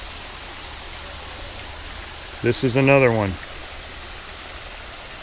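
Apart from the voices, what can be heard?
waterfall in a gully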